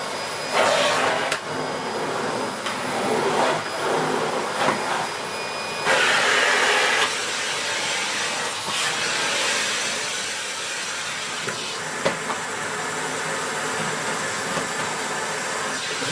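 A Miele 8730 vacuum cleaner, switched on from its remote-control handle, runs with a steady loud whine and broadband hiss that shift in pitch and strength partway through, with no talking.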